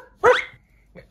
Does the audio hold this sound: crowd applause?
no